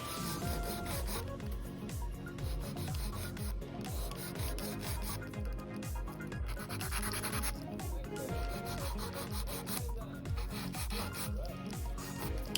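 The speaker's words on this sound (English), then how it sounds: "now you're going to see me finish file over the top of the nail" A nail file scrapes back and forth over a practice nail in steady, quick rhythmic strokes, a continuous dry rasp that stays close and even throughout with no talking.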